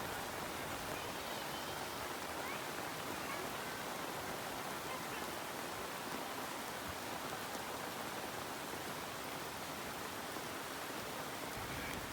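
Heavy rain pours steadily and loudly, a dense unbroken hiss of water with no pauses.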